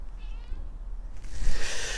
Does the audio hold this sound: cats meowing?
yes